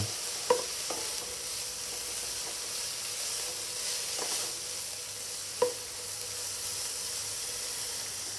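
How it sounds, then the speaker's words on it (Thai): Khajorn flowers stir-fry with seasoning sauce in a pan for a vegetarian dish, giving a steady soft sizzle broken by a few sharp clicks of a utensil against the pan. "ซอสปรุงรส ผัดให้เข้ากัน"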